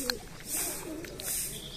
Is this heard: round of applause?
no